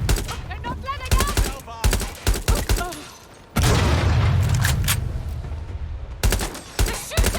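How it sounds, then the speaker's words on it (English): Bursts of automatic gunfire and heavy booms from a shootout in Watch Dogs: Legion hit loud and close, with clusters of rapid shots broken by short pauses and a long roaring burst in the middle. "Shots fired. Suspect shooting. They're not letting up!"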